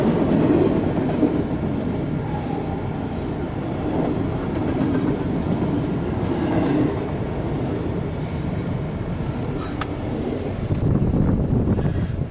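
CSX Q135 intermodal freight train rolling past westbound, a steady loud rumble of railcars with clickety-clack and wind buffeting the microphone throughout, no talk.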